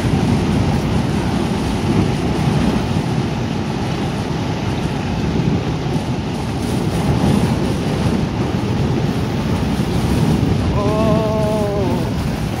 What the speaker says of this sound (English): That isn't me shaking the camera, it is actually the wind shaking the old van.